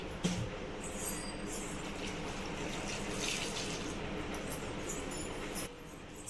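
Water pours steadily into a pressure cooker pot holding tamarind, a pinch of turmeric and chili powder for Andhra-style cucumber dal, a continuous close splashing rush with no talking.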